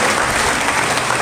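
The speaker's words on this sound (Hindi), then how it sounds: "श्री दिनेश अंथाल, एक बहुत जोरदार तालियां।" Dense, steady applause from a large audience during a memento presentation at a religious discourse gathering, loud and continuous throughout with no pauses.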